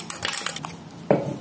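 Metallic clinks and taps as crushed biscuit crumbs are tipped into a metal baking tray in a home kitchen, a quick run of light rattles followed by one sharper clatter.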